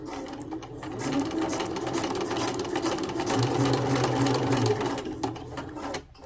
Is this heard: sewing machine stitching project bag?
yes